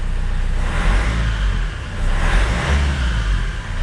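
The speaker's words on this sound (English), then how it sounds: "Right, let's see if it starts." Vauxhall Vivaro van engine running after an EGR valve clean, a loud, close, continuous mid-pitched rumble that swells slightly as it revs.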